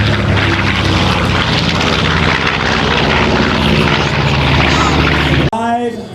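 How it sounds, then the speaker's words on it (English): Vermilion-red P-38 Lightning warbird with unmuffled engines making a loud, sustained propeller roar as it passes close at an air show, steady for several seconds before cutting off abruptly, with a brief voice afterward. "Now listen, the right engines are unmuffled. They make a fantastic sound."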